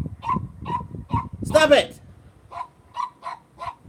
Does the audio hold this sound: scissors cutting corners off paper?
no